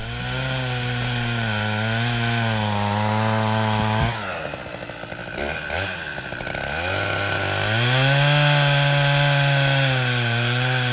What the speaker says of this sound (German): Endlich mal wieder ein Grund für Peter, seine geliebte Kettensäge anzuschmeißen.